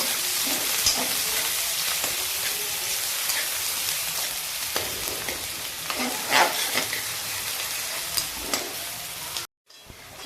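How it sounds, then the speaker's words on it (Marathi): Chopped onion sizzles and crackles steadily in hot oil in a pan for stuffed brinjal, with scattered stirring clicks throughout and a brief gap near the end. "त्यामध्ये मी हा एक मोठा चिरलेला कांदा टाकून घेते। हा कांदा चांगला परतून घेते।"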